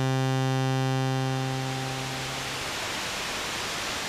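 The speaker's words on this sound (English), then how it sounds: "I want to show you what white noise is. It's random." A synthesizer with an oscilloscope connected plays a buzzy harmonic tone that fades over the first couple of seconds. A loud, steady broadband hiss of random noise rises in its place and continues alone to the end.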